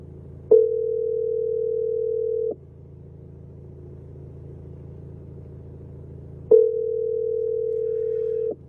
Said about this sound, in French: Là, je suis en train d'appeler le boss.